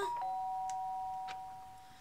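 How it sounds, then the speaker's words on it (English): A two-tone electronic doorbell chime from the video game Danganronpa rings once, the second tone lingering and fading, with a couple of faint clicks behind it. "Sharp sound of the doorbell pierced my sleepy haze and pulled me back to the real world."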